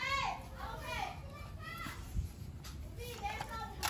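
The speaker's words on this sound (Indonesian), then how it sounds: "sorry ya, ada anak-anak main di selokan" Children playing and chattering outdoors in a roadside ditch during the rainy season, their high voices overlapping at a short distance with steady background noise throughout.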